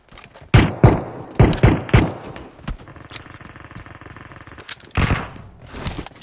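Pistol shots ring out in PUBG Mobile as a quick string of sharp, loud cracks, then a pause and a couple of further shots.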